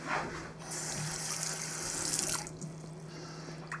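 Water running steadily into a pot of homemade tomato sauce, a continuous splashing hiss that swells and then tapers off near the end, heard alone without talk.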